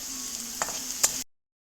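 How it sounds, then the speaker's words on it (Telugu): Ginger garlic paste with salt fries in a pan with a soft, steady sizzle and a couple of brief stirring scrapes, close up, lasting just over a second before cutting to silence. "అల్లం వెల్లుల్లి పేస్ట్ కొద్దిగా వేసుకొని వేపుకుందాం."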